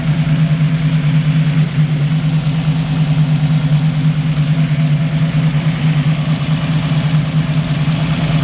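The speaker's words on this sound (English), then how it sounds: "The engine just runs absolutely fantastic." The engine of a 1972 Chevrolet Camaro runs at a steady idle, close and loud, with a deep, even drone and no voices over it.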